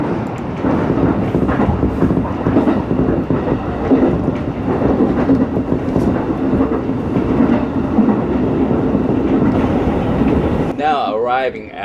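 A JR Chuo Line train runs through Yamanashi near Nirasaki Station, a steady loud rumble and rattle of wheels on track continuing throughout before dropping off sharply near the end, where a voice speaks briefly.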